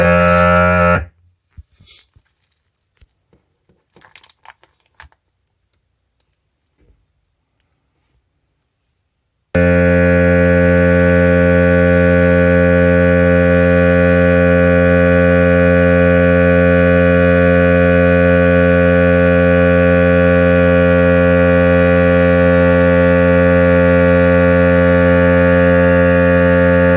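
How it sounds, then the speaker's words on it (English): A vacuum sealer runs on its moist setting, giving a loud, steady droning hum with strong tonal harmonics that starts abruptly after a quiet stretch of faint clicks and holds unbroken to the end. "So it just finished vacuum sealing it."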